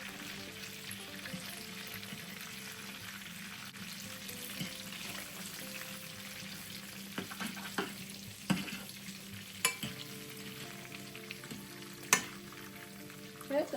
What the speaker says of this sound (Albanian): I kthejmë romstekët nga njëra anë në tjetrën, gjatë skuqjes.